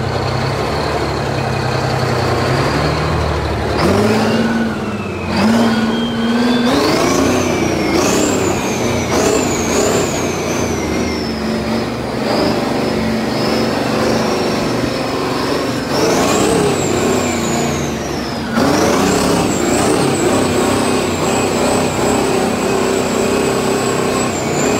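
A John Deere 6030 rebuilt tractor engine revs in seventh gear, its loud continuous drone rising and falling in pitch as it accelerates through several surges.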